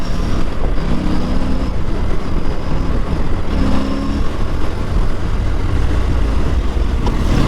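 A 2024 Yamaha R3 motorcycle is being ridden, with engine drone and heavy wind rush throughout and no clearly distinct gear shifts.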